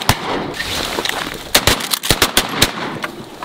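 Shotguns fire outdoors during a duck hunt, a rapid volley of about eight sharp, loud cracks, some overlapping and others spaced irregularly, over a faint background rush.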